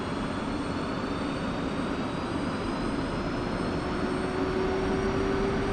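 An F-16 jet engine spooling up at idle in the DCS flight simulator, a steady close whine and roar with a slowly rising tone over a constant rumble.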